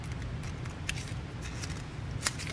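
Scissors snipping through a wood-mounted rubber stamp, a few faint, scattered cutting clicks over a low background hum, quiet and close.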